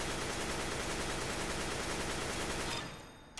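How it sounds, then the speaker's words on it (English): Sustained automatic gunfire in CS:GO during recoil practice, a dense rapid burst filling nearly the whole span before cutting off abruptly near the end. "We're going to shoot again."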